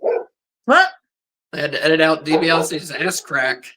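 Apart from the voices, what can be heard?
dog barking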